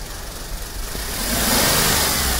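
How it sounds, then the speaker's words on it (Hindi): Engine of a Skoda Fabia car running, idling with a steady mid-pitched hum and then revving up to a louder, sustained roar, heard close up with no talk. "देख सकते हैं गाड़ी हमने स्टार्ट करके रखा है।"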